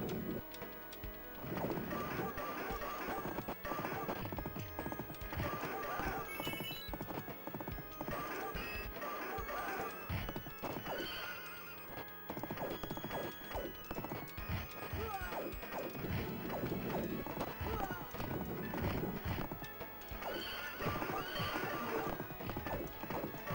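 A horse in a Capcom arcade belt-scroller gallops with rapid clip-clop hoofbeats and lets out neighs, mixed with loud crashes, thwacks and busy game music throughout.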